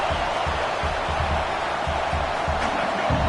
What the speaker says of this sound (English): this crowd coming to life here, trying to help the defense get a stop with the offense pinned back